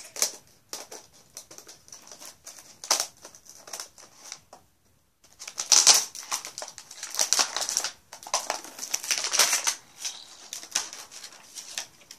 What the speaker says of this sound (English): Cracker parrot. Oh, and that's the noise it makes.